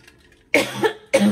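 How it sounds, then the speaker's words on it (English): Two harsh coughs, the second following about half a second after the first, close and fairly loud with nothing else around them. "Sorry about the cough, guys."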